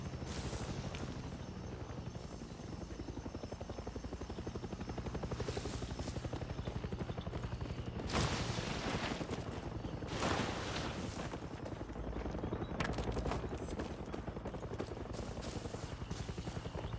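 Helicopter in the Far Cry 6 video game, a continuous loud rotor chop and engine roar, with several sharp bursts like gunfire or impacts cutting through.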